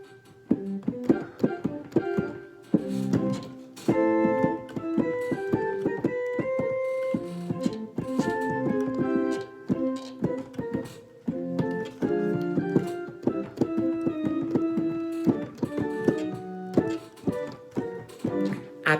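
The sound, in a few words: imitated bouncy carnival tune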